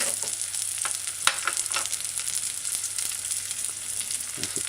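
A virgin cho-cho stew with okra, pepper and coconut milk sizzles steadily in a pot on the stove, with soft scraping and stirring clicks scattered through the continuous frying hiss.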